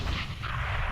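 Grenade blast from Counter-Strike: Global Offensive during a pro match between SK and OpTic on Mirage at ESL One Cologne 2017: a dense, rumbling explosion with a sustained boom filling the whole short moment.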